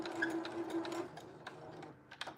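A sewing machine stitches down an elastic band in a rapid mechanical rattle that slows and stops partway, followed by a few faint clicks, fairly quiet and with no talk.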